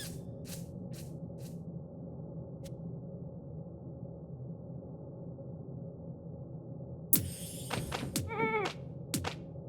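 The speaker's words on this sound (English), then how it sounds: "So that's a sheep." In the Phobies game, a sheep gives a short, wavering bleat near the end over a quiet hum, after a few faint clicks and a soft thud. No one speaks.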